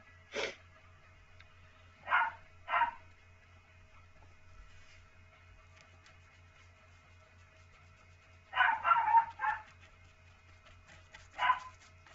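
A dog gives a few short, separate barks at moderate distance, with long quiet gaps between them and a steady low hum underneath.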